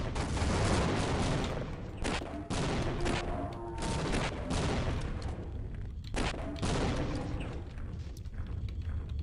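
Rapid volleys of video-game gunfire and explosive grenade blasts in Half-Life, fired at a Gargantua, loud and dense bursts repeating in clusters with brief gaps throughout.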